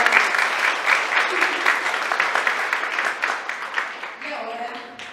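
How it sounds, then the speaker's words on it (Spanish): Applause from an audience at a church gathering, a dense steady clatter of many hands filling the space, tapering slightly near the end as a few voices emerge underneath. "Un fuerte aplauso para"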